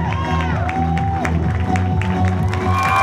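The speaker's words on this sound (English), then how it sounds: "Let's keep the applause going" Audience applause and cheering at a pageant show as delegates are introduced, a steady crowd wash running under loud stage music with sustained tones.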